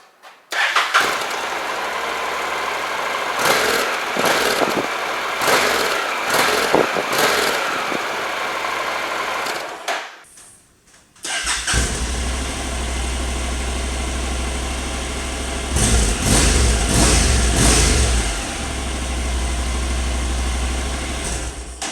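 A Honda CTX700 motorcycle with its stock exhaust muffler runs steadily at idle, a broad, loud engine drone that pauses briefly near the middle, then resumes with stronger low rumble and a few throttle blips.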